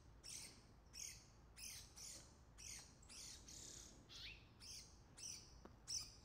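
A brown-headed cowbird chick begs in repeated high, squawking calls, about one each half second to second, while being fed by a dark-eyed junco; the calls are faint and outdoors.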